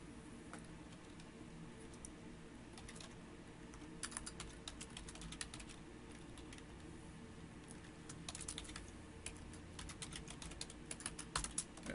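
Someone types on a computer keyboard from a script, producing quiet, irregular bursts of clicking keystrokes that come in quick clusters with brief pauses between them.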